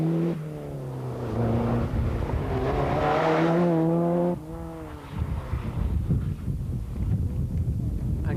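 A rally car, a Group N entry at the 1992 Donegal International Rally, is driven hard along a stage, its engine note rising and falling through revs and shifts, loud and close at first, then rougher and more distant with a commentator speaking over it.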